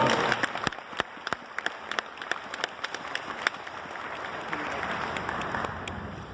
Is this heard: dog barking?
no